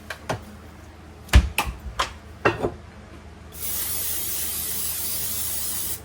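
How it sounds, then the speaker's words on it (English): A few clicks and knocks, then a steady hiss of butter-flavored nonstick aerosol cooking spray onto a pan for about two and a half seconds, close up. "I'm going to spray my pan with some nonstick spray."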